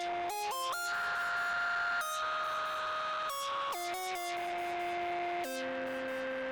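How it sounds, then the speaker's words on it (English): A buzzy synthesizer lead preset in a beat plays stepped, sustained notes that jump between pitches, with sharp clicky transients at each change and no talking. "After that sound effect, I laid down this lead preset."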